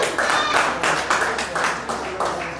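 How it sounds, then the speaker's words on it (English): Applause and clapping from an audience at a fight weigh-in, a steady wash of many hands with a few louder swells, continuous through the moment. "How about a round of applause?"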